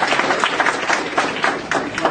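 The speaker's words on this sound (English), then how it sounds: "Give her a round of applause." An audience applauds during a trading academy seminar, a dense, steady wash of clapping filling the short stretch without a break.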